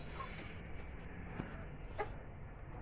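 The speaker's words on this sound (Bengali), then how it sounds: "এই হচ্ছে পায়রা কবুতর" Pigeons in a small hobby pigeon farm give faint, scattered coos and flutter-like chirps over a low, steady background hum, with no talking.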